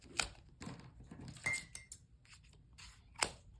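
Scissors cutting plastic while setting up a fitness planner: a few sharp close snips and crinkly clicks spaced irregularly, fairly quiet, with no voices.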